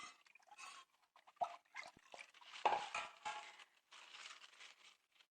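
A spoon stirs rose water in a container for güllaç, giving soft scattered clinks and swishing scrapes close by in an otherwise quiet kitchen.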